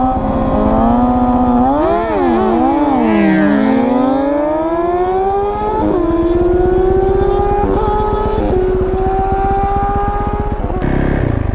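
Custom 130hp Banshee ATVs running nitrous on race gas, their two-stroke engines screaming and wavering in pitch as they rev hard and pull away, loud and continuous throughout.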